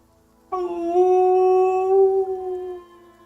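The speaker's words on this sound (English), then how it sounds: "you hear a chorus of howls" A chorus of howling dogs or wolves, used as a tabletop RPG sound effect, rises suddenly and holds long sustained wavering tones for about two seconds before fading, sounding distant yet clear with no voices.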